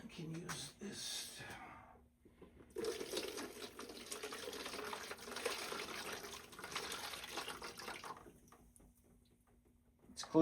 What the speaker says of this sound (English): I'll use sprayer and then I will just use water to rinse it.